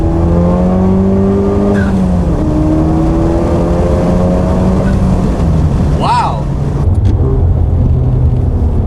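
A Honda Civic Type R with rolling anti-lag accelerates hard in third gear, its loud engine rising in pitch for several seconds from inside the car, with people talking over the noise.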